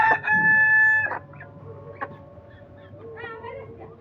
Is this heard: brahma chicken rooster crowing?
yes